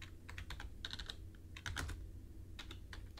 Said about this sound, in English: Just type in whatever numbers come to mind.